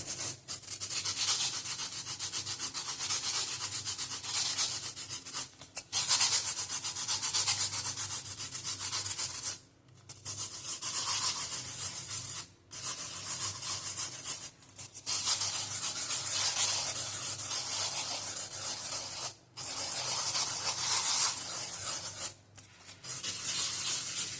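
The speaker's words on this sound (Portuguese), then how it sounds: "agora eu venho com a lixinha também, vou arredondar essas pontas" Sandpaper rubbed by hand along the cut edges of a tin can, a continuous scratchy abrasive rasping in long strokes broken by brief pauses, close and steady with no talking.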